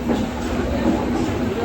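A train rolls into New Delhi railway station, a steady close rumble of rail cars on the tracks throughout the short moment.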